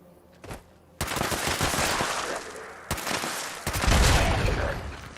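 Gunfire in Fallout 76, a short burst followed by sustained rapid automatic fire in two long volleys, loud and close with rattling crackle.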